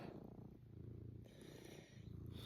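Soft, quiet purring from a cat nearby, rhythmic low rumbling pulses that rise and fall with breaths, with faint background noise.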